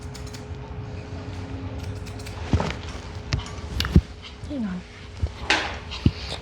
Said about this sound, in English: I'm gonna just snip some of it off first